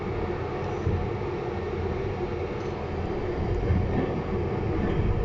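A train rolls along the railway tracks in Kraków's Nowa Huta district, near signals and a switchman's post. It makes a steady, loud rumble that stays even for several seconds, with no voices.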